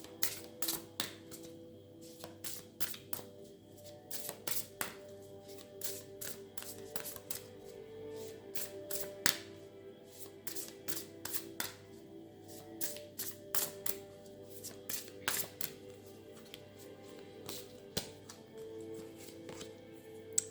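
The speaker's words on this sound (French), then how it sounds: "Je vais tirer une carte du cheminement de l'âme." Soul-path oracle cards being shuffled, a continuous run of quick, crisp riffling snaps repeating over a steady low background, close and moderately quiet, with no talking.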